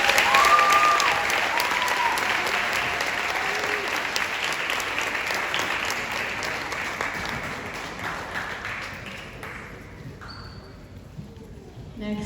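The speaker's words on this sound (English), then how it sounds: "ask everyone to clap for Courtney" A school senior night audience claps for a graduating student: dense, steady applause that starts full and gradually thins and fades away over about ten seconds.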